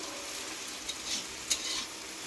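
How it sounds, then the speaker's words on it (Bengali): Onions frying in a pan for a home-cooked goat meat curry give a steady, quiet sizzle, broken by a few brief stirring clicks and scrapes, with no voices. "আর এই যে পেঁয়াজ যে ভাজছি"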